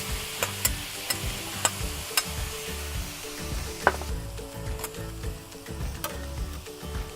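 Seafood sizzles and fries on a hot griddle with garlic, a steady loud crackling hiss broken by occasional sharp pops and scraping stirs, with no talking.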